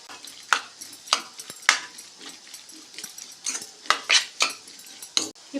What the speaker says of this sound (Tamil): இப்போ எல்லாமே நல்லா ஒன்றோடு ஒன்று கலக்கிற அளவுக்கு நல்லா கலக்கி வச்சுக்கலாங்க.